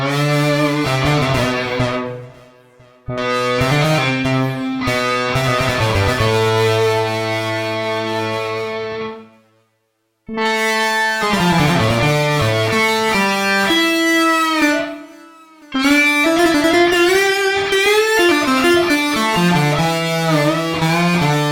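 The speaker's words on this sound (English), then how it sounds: "I'm particularly stacking up the guitar track against the synth track" A MIDI guitar drives a synth through reverb on the master channel, playing sustained, rich chords and melodic lines in several phrases broken by short silences, with no talking.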